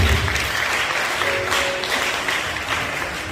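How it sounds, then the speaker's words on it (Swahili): A church congregation at a youth camp claps loudly and steadily for the whole stretch, a dense, close wash of many hands with faint crowd noise underneath. "Makofi mengi mengi kwa Yesu Kristo."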